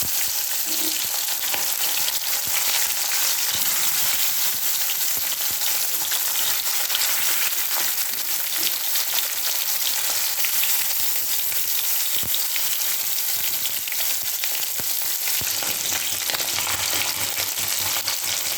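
Katla fish frying in a pan, a loud, steady close sizzle with bubbling crackle and occasional stirring scrapes running throughout.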